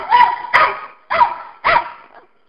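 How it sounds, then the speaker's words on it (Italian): A dog barks four times in a loud, close, evenly spaced sequence at an open-air street market that sells fruit, vegetables, fish, flowers and cheese. There is no talk over the barks. "C'è anche il cane della messa, Stella"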